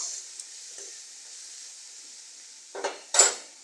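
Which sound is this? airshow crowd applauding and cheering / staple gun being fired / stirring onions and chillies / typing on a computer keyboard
stirring onions and chillies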